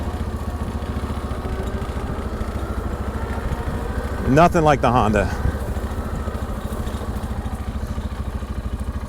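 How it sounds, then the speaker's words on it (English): A steady ATV engine drone with a brief louder burst of rumbling and popping midway as the motor decelerates under engine braking; a person speaks briefly over it. "let's try the engine braking on this one."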